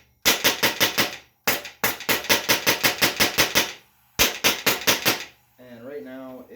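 Rapid bursts of an HPA-powered, magazine-fed Nerf blaster firing darts from a closed bolt, sharp loud pops in quick strings separated by short pauses, close by, with a brief voice at the end.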